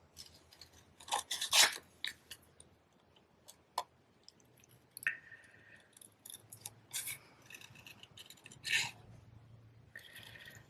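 Scissors snip through a paper card shape, following a black outline around a glass design, in a handful of sharp, close cuts spread out with quiet pauses between them.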